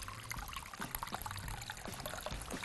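Milk is poured into crepe batter in a home kitchen, a steady, faint, close liquid trickle and splash with slight fluctuations throughout.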